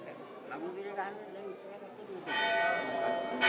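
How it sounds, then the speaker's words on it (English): A temple bell rings during the daily homage ritual to the Sacred Tooth Relic in Sri Lanka, resonant ringing tones rising midway and sustaining beneath a narrator's steady speech. "Then the bell rings to inform that the monk in charge is entering the inner chamber."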